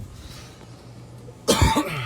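A single sharp cough bursts out near the end, after a quiet stretch of low background noise.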